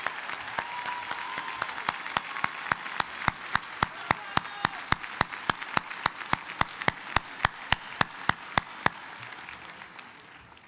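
Commencement audience at a law school graduation applauding a graduate and her father, steady crowd clapping with sharp individual claps standing out, sustained and gradually thinning over about ten seconds.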